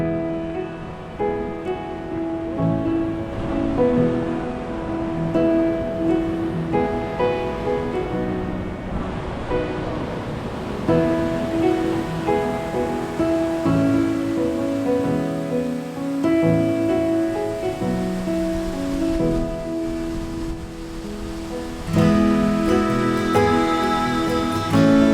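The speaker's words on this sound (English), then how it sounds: "I will show you this waterfall" Waterfall on the Half Dome hike in Yosemite, a broad steady roar of rushing water sustained throughout, loud and unbroken, with nobody talking.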